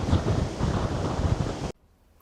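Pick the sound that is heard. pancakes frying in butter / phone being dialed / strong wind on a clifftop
strong wind on a clifftop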